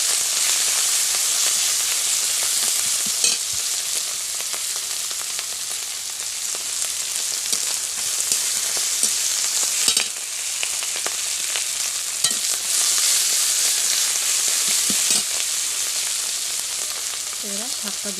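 Spinach and shrimp stirred and fried in a hot pan, continuous bright sizzling with occasional scraping stir strokes and pops, close and steady.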